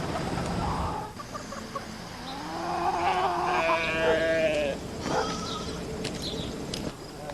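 Sheep bleating in a farm setting, with several wavering calls, some near and some farther off, clustered in the middle of the stretch over faint background noise.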